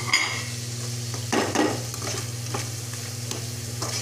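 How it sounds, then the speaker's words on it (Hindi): Green chillies fry with dry ground masala in a pan, a steady close sizzle broken by scraping stirs and a few light clinks, with no voices. "अब हम इसको थोड़े से मिर्च के साथ बना भूनेंगे"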